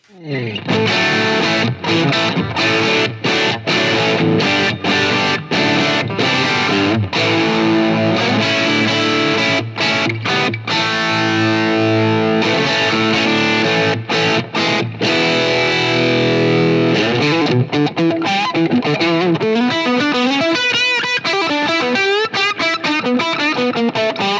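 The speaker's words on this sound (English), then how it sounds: "By the way, a very good transparent medium gain overdrive" Electric guitar through a BMFM Effects transparent medium-gain overdrive pedal, played as a continuous run of crunchy, sustained chords and riffs with short breaks, loud and up close, with no talking.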